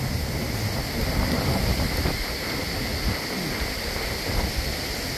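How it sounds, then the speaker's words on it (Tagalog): Strong, steady wind roaring across the microphone on Boracay beach, with a constant rushing noise and faint surf in the background. "Sa lakas ng hangin."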